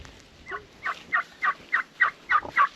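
A mother hen calls in a quick series of about eight short, clucking bursts, evenly spaced and fairly close, with no talking.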